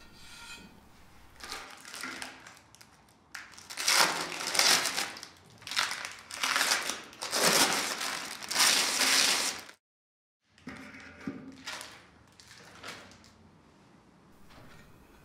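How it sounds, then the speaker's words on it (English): Protective packaging is pulled off furniture base legs and a cap, making bursts of crinkling, rustling plastic and crushing noises in several loud spells, with a brief silent gap before quieter rustling resumes. "Remove the protective packaging from the legs of the base and from the cap."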